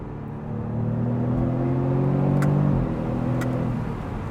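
A Jaguar F-Type four-cylinder engine pulls hard under acceleration from the cabin, with a rising tone, a quick gearshift and a second climb. It is a smooth, moderately loud drone, and no voices are heard.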